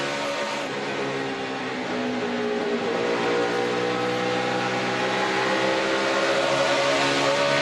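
NASCAR race cars lap side by side in the 2014 UNOH 200, a sustained engine drone that holds steady and climbs gradually in pitch, moderately loud, with no one talking.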